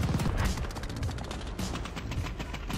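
Shotgun fire in the multiplayer shooter Call of Duty Vanguard, a dense run of close gunshots and rapid bursts layered over busy battle noise, fairly loud and continuous without clear speech.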